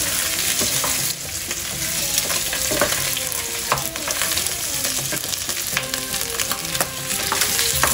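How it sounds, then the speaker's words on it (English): Oxtail sautéed Egyptian style in a hot pan gives a loud, continuous close sizzle with occasional stirring scrapes and pops, and no voices over it. "بنديه زي تشويحة كده"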